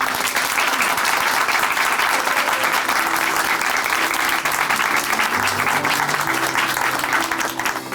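A church congregation at Chuncheon Hanmaeum Church applauds after a testimony, loud, dense sustained clapping from a large crowd that tapers slightly at the very end.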